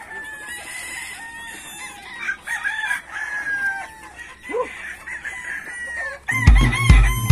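Chickens being bathed cluck and a rooster crows nearby, with bursts of louder fowl calls near the end.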